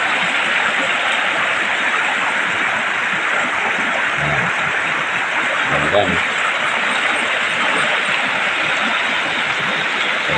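Cold, clean mountain stream water flows in a rural province setting beside a river, a loud, constant rushing wash, with someone talking briefly over it.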